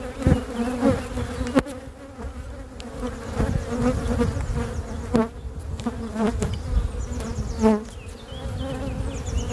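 Honeybees buzzing in a dense swarm around an open hive during an inspection, a loud continuous close-up drone with individual bees zipping past the microphone.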